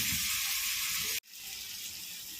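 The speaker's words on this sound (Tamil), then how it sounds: "அதுக்குள்ளே நம்ம மீனை வறுத்துக்கலாம்" Fish frying in a pan for a Tamil fish kulambu, giving a steady loud sizzle that cuts out abruptly midway, then resumes as a quieter, continuous hiss.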